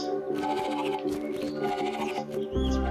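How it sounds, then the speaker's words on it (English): A sheep bleats in the video game Narita Boy, a wavering, tonal cry heard up close over steady electronic game music, with a louder low synth tone coming in near the end. "Sounds like a sheep."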